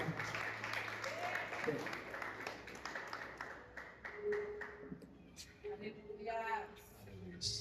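A church congregation applauds during a family worship service, steady clapping that holds for several seconds and then thins out under a preacher's voice.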